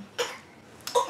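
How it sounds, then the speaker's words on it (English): Two short, soft coughs about three-quarters of a second apart, close by in a quiet room. "that's the saddest cough I ever heard"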